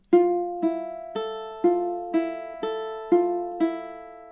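Steady fingerpicked notes on a ukulele, eight evenly spaced plucks in a repeating arpeggio pattern from a fingerpicking etude, close and clean with no talking.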